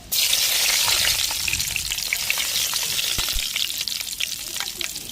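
Fenugreek seeds sizzle and fry in a hot pan as the base for a dried stingray fish curry. A steady, loud crackle runs throughout, with a few soft stirring knocks and no talking.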